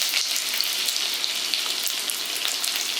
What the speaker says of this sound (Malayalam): അപ്പൊ ഇനി നമുക്ക് ഇതിൻ്റെ അകത്തോട്ട് നമ്മുടെ ഇഞ്ചി ഇട്ട് കൊടുക്കാവേ